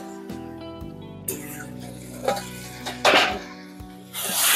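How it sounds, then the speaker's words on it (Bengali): Bottle gourd cooking in a pan is stirred, with scattered scrapes and clinks of the utensil against the pan over a low sizzle. A louder burst of clatter comes near the end. "আর একটু নেড়ে নেব। লাউটা ভালোই কচি।"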